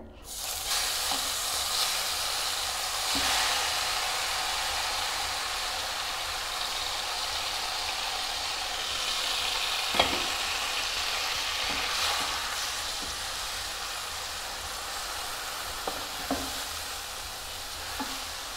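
Grated guava and beetroot fry in hot ghee with cardamom, giving a steady, close sizzling hiss. Occasional sharper taps and scrapes come from stirring.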